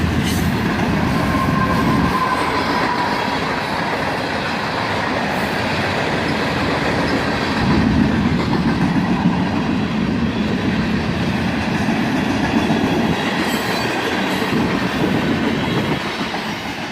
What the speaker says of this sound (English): And there's the third locomotive, all the way near the end of the train.